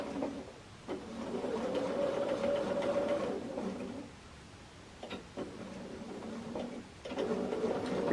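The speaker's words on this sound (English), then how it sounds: "I'm just sewing these, everyone," A sewing machine stitches darts with a quarter-inch seam, running in three steady mechanical bursts separated by short pauses, close and moderately loud.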